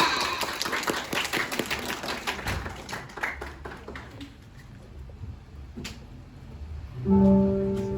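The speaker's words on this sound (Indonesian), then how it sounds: "Beri tepuk tangan yang gloria." Audience applause before a class drama performance of Ayahku Pulang at a school, a loose burst of clapping and taps that thins out midway, followed by a brief tonal sound near the end.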